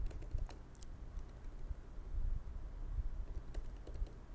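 Typing on a computer keyboard while entering names into an NFL quiz, quick bursts of light clicky keystrokes with pauses between, fairly close and quiet.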